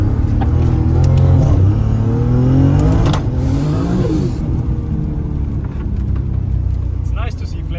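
A 1000 hp single-turbo Toyota Supra engine roars loudly and climbs in pitch as it revs hard, the turbo kicking in around 5,000 RPM, then the tone drops and rises again, with a voice talking over it.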